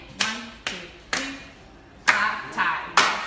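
Sharp hand claps from a clapping game, six crisp slaps in an uneven rhythm, close and clear, with faint voices in the background.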